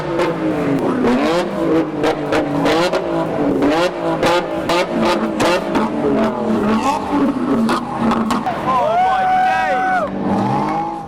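Two Nissan Skylines in London rev hard and shoot flames from their exhausts, giving loud rising and falling engine wails broken by sharp pops and crackles, with crowd noise in the background.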